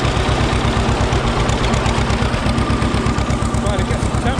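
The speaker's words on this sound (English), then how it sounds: "Try to get some temperature going in the engine. It's running cold." A 1944 John Deere A tractor engine running cold, its two-cylinder exhaust firing in a loud, close, steady low pop-pop rhythm that continues without a break.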